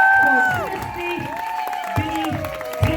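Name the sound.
audience applause and cheering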